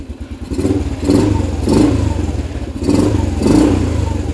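A motorcycle engine with a stock exhaust and worn engine bearings runs close by with a metallic clattering rattle, its revs rising and falling in repeated surges.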